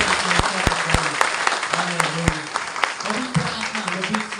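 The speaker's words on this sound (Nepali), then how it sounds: "एकपल्ट हामी ताली बजाएर" Church congregation claps hands at a Nepali service, with a dense burst of many claps and a few sharp loud hits rising above it, while a voice speaks underneath.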